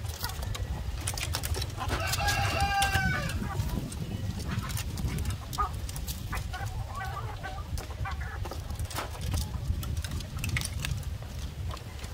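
Layer chickens clucking and squawking while eating feed, a close, busy flock chatter over a low steady engine-like hum, with a louder cackling outburst early and softer clucks continuing throughout.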